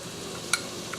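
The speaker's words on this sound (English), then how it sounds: "Stir that all up. It's almost like a stir fry." A spoon stirs tomato shrimp curry in a hot pan against a constant close sizzle, with one sharp clink of metal and a fainter second tap, no voices.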